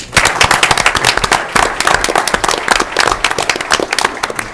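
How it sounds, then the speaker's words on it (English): An audience at a school board meeting claps for students being recognized, loud, close, crisp individual hand claps forming a dense, steady round of applause. "And congratulations, another round of applause for these"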